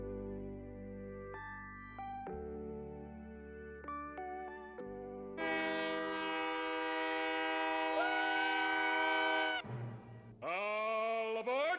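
A train horn sound effect opens a Night Train radio show: sustained multi-tone horn blasts rise and fall over rolling rail noise, loud and close, ending with a final sharp horn call.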